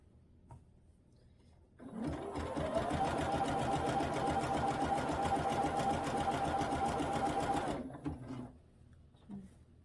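A sewing machine free-motion quilts a sugar cookie quilt, running in one steady rapid burst for about six seconds after a quiet start, then stopping, with faint handling noises around it.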